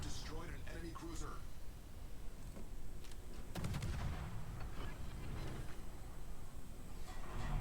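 Warship main guns fire at enemy ships in World of Warships, a run of booming salvos with sharp onsets and rumbling low tails, loud and close, mixed with game effects while a player talks over them.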